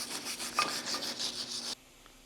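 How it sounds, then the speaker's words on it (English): Rust and dirt are scrubbed off the brake rotor of a 2019 RAM 1500, a close rhythmic rasping rub of quick strokes that runs for under two seconds and then stops, leaving near quiet. "Just get rid of any rust and dirt that's there."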